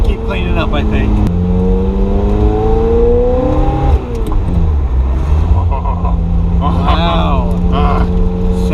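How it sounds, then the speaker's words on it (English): A Ferrari F355 engine, driven after sitting for years, revs and shifts through rising and falling tones, loud and close, with a person talking over it. "Wow. Sounds good. Feels good. It's just smooth."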